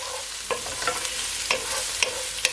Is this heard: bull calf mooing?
no